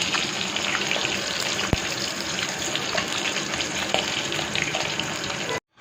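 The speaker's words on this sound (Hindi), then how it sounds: "अब 2 टमाटर धो के डालूँगी अच्छे से।" A kitchen tap runs steadily as two tomatoes are washed under it, a continuous close gushing stream that cuts off abruptly at the end, with no talking.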